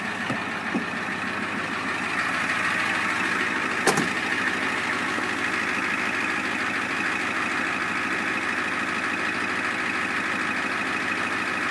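A 1990 Ford F-450 truck engine idles steadily and close by, a continuous low rumble with a constant hum, broken once by a brief sharp click.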